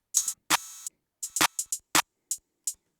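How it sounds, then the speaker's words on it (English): Open hi-hat sample from an ambient beat, sounding as a string of crisp, bright hits in an uneven swung pattern, with one longer sustained open hat ringing out among shorter ticks. No voices. "I added this open hat"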